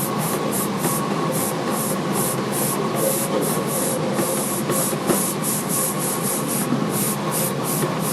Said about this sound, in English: Now I take the airbrush far away from the canvas.